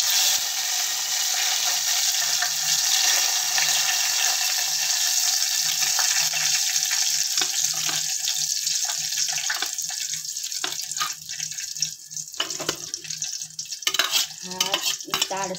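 Green chillies and curry leaves sizzle in hot oil in a pan, a steady close crackling hiss that runs throughout, with clattering stirring sounds growing busier toward the end.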